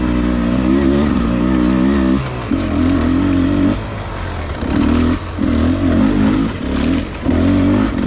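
A 2022 Beta 300 Race Edition dirt bike is ridden at modest throttle, its engine close and loud, rising and falling in repeated bursts with brief drops between.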